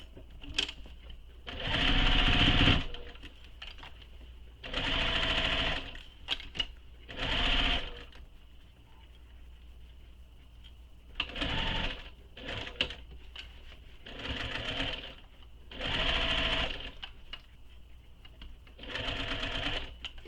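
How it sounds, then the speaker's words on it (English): A sewing machine stitches around the seam of a crossbody bag in repeated bursts of a few seconds each, its rapid mechanical whir stopping and starting with quiet gaps between runs. "I'm going to sew all the way around with the seam allowance given in the pattern"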